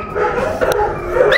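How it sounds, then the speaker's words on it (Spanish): Dogs bark and yip in a burst, loud and close, with a whimpering, whining edge to some calls on a walk in Tepoztlán, Mexico. "Despertó todos los perros."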